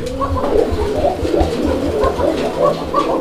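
Native Bombay pigeons coo repeatedly in a pen, their low, rolling calls overlapping in a continuous, fairly loud, close chorus with no talking.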